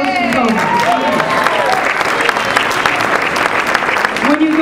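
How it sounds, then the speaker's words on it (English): A dinner-party crowd gives a round of applause for the hosts and co-hosts, loud dense clapping throughout, with a voice speaking over it at the start and end. "Please, a round of applause for our hosts and co-hosts."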